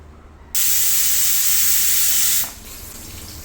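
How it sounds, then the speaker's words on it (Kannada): A pressure cooker whistle releases a loud, steady hiss of steam for about two seconds, then drops off to a quieter background. "ಈಗ 2 ವಿಷಲ್ ಆಗಿದೆ"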